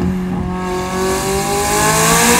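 A McLaren 570S engine tuned to 700 hp screams at full throttle, pitch climbing steadily, loud and close with no voices.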